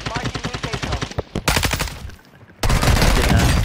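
Rapid automatic gunfire in a video game's final zone, loud and close, in dense repeated bursts with a short lull before another sustained volley, voices talking in between.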